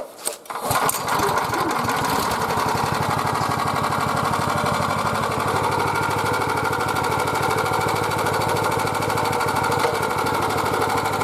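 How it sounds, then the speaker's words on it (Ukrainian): A Chinese 177F petrol engine fitted to a walk-behind tractor starts and then runs steadily, a loud, close, even chugging drone that holds unchanged for the rest of the clip. "Ну а тепер давайте запустимо і подивимося, як все працює."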